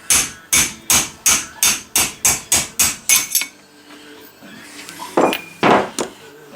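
A socket is hammered to drive out a wheel bearing: about eleven loud, evenly spaced metallic strikes ring out close by, then a pause with faint clinks and a few more scattered blows.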